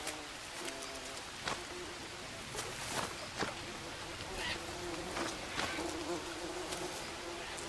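Bees buzzing around a nest in the jungle survival game Green Hell, a steady insect drone with brief louder passes and faint footsteps, no talk.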